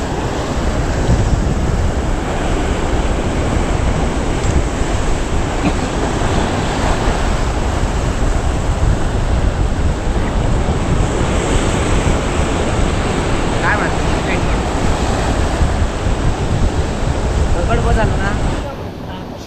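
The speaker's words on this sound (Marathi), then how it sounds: "लाट येतात खालती मोठी मोठी." Big ocean waves crash continuously against coastal rocks below a fishing spot on the Konkan coast during the monsoon, a loud, steady roar of surf and wind that fills the whole stretch without pause.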